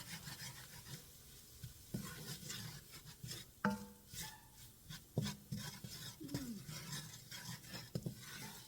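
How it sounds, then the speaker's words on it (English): Flour for broccoli cheese soup is stirred in a pot, giving soft, uneven scraping and rubbing strokes with faint sizzle and a few spoon taps against the pot, quiet and close. "Just gonna stir it, get the floury taste out, cook it about a minute or two."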